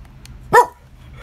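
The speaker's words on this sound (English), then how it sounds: "What are you barking at, buddy?" A single sharp bark from a pet dog, close and fairly loud, standing out over a quiet indoor background with no talk.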